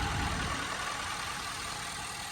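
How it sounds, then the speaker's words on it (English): A 2008 Ford F250 pickup with a deleted Power Stroke diesel engine idles with a steady, loud, low rumble and even clatter, close up and unbroken, with no talking. "It's a good sounding engine too."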